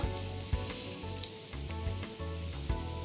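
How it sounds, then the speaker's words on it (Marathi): Chopped chilies and fenugreek leaves sizzle steadily in a butter-and-oil tempering for veg keema pav, a loud continuous frying crackle with a few sharper pops and stirring knocks, no talk. "3 मिरच्या बारीक कापलेल्या. मस्त तडतडल्यानंतर 1 मूठभर बारीक कापलेली मेथी. मिक्स करूया."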